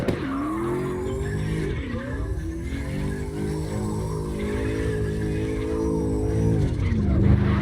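A car drifts in CarX Drift Racing Online, its engine droning steadily with tire skids and squeals, loud and close, swelling near the end, with no voices.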